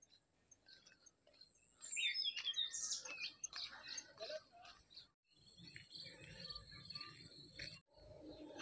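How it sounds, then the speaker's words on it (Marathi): Birds call near water on a coastal Konkan prawn farm, with bright chirps and trills scattered through the scene and insect-like buzzing beneath, moderately close. No one speaks. "तिथे बऱ्याच जातीचे पक्षी आहेत"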